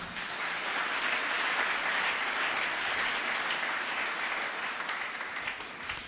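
A church congregation applauds in a steady, dense burst of clapping that sounds like heavy rain and holds at an even loudness for several seconds before easing slightly at the end, with no speech over it.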